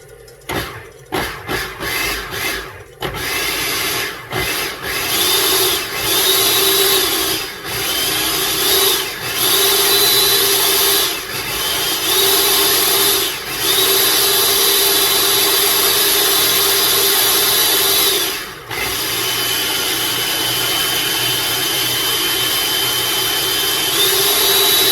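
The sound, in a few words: food processor pulsing almond flour and powdered sugar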